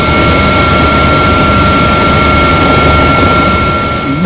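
Helicopter flying over the Niger Delta during an anti-crude-oil-theft patrol, heard from inside as a loud, steady engine and rotor drone with a constant tonal whine, no voices.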